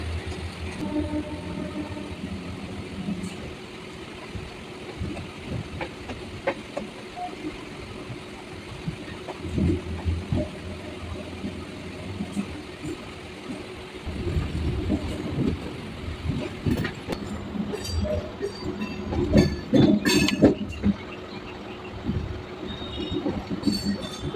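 A Howrah–Belur Math local train slowly curves right onto the branch line, with a steady rolling rumble, scattered metallic clinks and knocks from the wheels, and a few louder clanks near the end.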